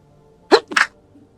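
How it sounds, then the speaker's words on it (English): A single close sneeze, loud and abrupt, split into two quick bursts inside a quiet room. "I might sneeze again."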